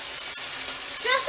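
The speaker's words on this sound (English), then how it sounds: "I'm gonna add some butter." Butter melting and sizzling in a still-hot pan with chickpeas for a quick chicken curry, a steady broadband crackle with a brief knock near the start and faint whistly tones toward the end.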